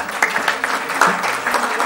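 Applause from the audience at an Italian scientific meeting on civic uses as a professor enters, a steady wash of clapping with a few louder bursts and some low voices underneath.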